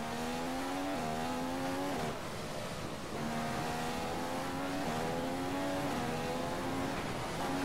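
A Formula One car in the F1 2015 racing game at the Australian Grand Prix roars at high revs, its engine pitch dropping in stepped downshifts as it brakes, loud and continuous with no talking.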